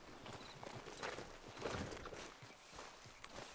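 Horse hooves clip-clopping at a walk in the Red Dead Redemption 2 video game, a quick, fairly close run of soft hoof strikes on ground, fairly quiet and without talking.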